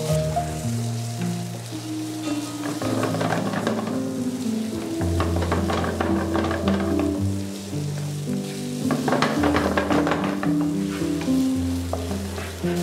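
Green and yellow capsicum, celery and tomato sautéing in a pan, a continuous crackling sizzle with stirring scrapes, under steady background music.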